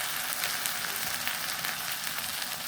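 Cumin paste sizzling as it hits hot oil along with garlic paste for a desi rooster curry, a steady, fairly quiet hiss of frying with no talk.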